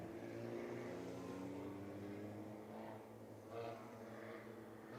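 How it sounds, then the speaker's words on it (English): Sport Compact race cars roll out onto a dirt speedway at the IMCA Frostbuster, a low engine drone with several overlapping revving tones from a group of cars, heard at a distance and fairly faint. "Another group, Sport Compacts, making their way out onto the Speedway"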